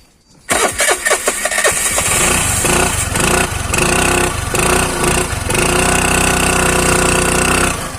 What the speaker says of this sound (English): Let us hear the exhaust note of this vehicle.